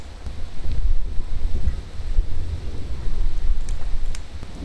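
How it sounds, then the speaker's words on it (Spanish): Heavy rain and rumbling thunder from a horror video game hiss and roar steadily in the background, with low booming swells and no voices. "Se me está dificultando escuchar por los truenos y la lluvia que está allá afuera."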